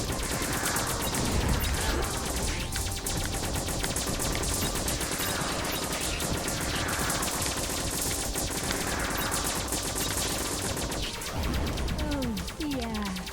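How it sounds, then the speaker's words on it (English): Rapid, relentless gunfire fills a Waifu Discovered 2 shoot 'em up stage, a dense machine-gun barrage of bullets rattling continuously at high volume from start to finish. "Bullets everywhere."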